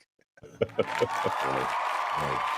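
A crowd bursts into applause: a few sharp claps build quickly into a sustained wash of clapping and cheering, short and fairly quiet.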